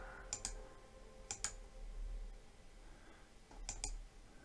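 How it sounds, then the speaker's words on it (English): Computer mouse clicks come in three quick close pairs, spaced about a second or more apart, crisp and near against a faint quiet room. "And just click on and off there."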